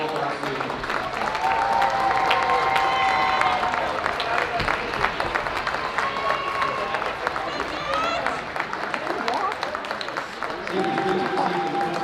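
Steady crowd applause at a Mountain Vista Eagles versus Dakota Ridge senior night hockey game in an ice rink, sustained clapping and cheering with a voice talking underneath throughout.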